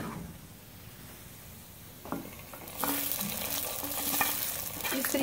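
Hot tadka of oil and crushed red chili sizzles and hisses in a pan for saag, swelling louder midway with light stirring and scraping noises, no talk.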